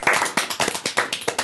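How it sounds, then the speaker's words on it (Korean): A small group claps briefly in an office-style quarterly meeting setting, with quick, uneven hand claps close by for about a second and a half. "다들 박수"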